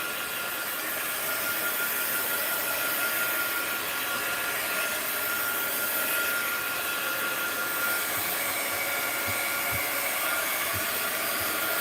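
A hair dryer drying paint on an art journal page, blowing as a loud, steady, continuous whoosh close to the microphone for the whole stretch, with no talking.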